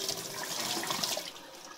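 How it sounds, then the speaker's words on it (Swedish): Water from a tap runs steadily into a bucket, a continuous hissing splash that stays at an even level with no talking. "Nu ska jag ju fylla den här hinken."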